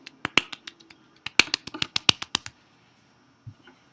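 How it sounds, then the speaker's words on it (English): A single person clapping by hand, a quick irregular run of sharp, close claps that stops, followed by a few faint taps. "I was clapping."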